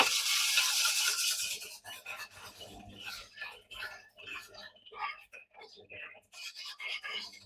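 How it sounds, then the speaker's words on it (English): Wood is worked with a belt sander and sandpaper, opening with a strong steady rasping hiss that then breaks into short, irregular scraping strokes as the belt stalls under heavy pressure, fairly close and moderately loud. "every time the belt stops, it's because I'm putting too much pressure on it. And I'm not letting the sandpaper do its job."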